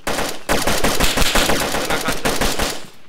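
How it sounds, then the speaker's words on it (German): Gunshots in the survival game DayZ, a loud sustained volley of rapid automatic fire cracking close by for about three seconds with barely a pause. "Oh, Schüsse. Schüsse auf mich."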